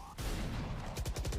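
A quick burst of gunfire in the game Valorant lands a jump headshot, several sharp shots in close succession up front, with more rapid shots firing in a tight rattle near the end.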